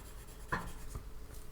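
Soft 6B graphite pencil on paper, a few quiet close scratchy strokes, with one brief sharper stroke near the start, faint and without talk.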